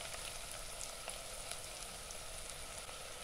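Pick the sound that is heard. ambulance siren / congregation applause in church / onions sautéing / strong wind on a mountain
onions sautéing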